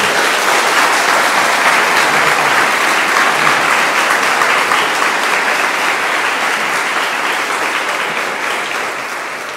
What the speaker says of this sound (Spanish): Vamos a recibir con un fuerte aplauso al padre Luis Toro